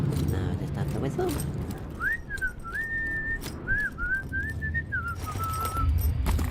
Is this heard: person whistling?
yes